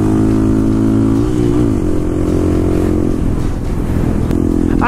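A motorcycle engine roars loudly and steadily at close range, its pitch climbing and dipping as it revs, with no talk over it.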